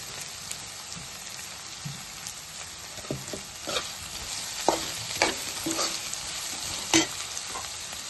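Fenugreek leaves fry in oil for aloo methi curry, a steady close sizzle broken by repeated scraping stirs and spatula knocks that grow more frequent toward the end.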